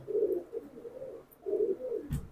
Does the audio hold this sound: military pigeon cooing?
yes